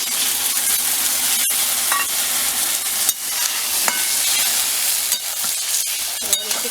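Pui shak (Malabar spinach) curry with its spice mix being sautéed in a pan, a steady broadband sizzle with occasional scraping stir strokes, close and continuous, no talking.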